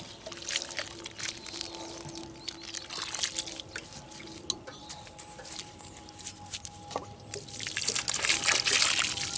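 Water poured from a watering container onto soil in a pot in a small deck vegetable garden, a soft steady trickle and patter that swells louder toward the end, close by with no talk.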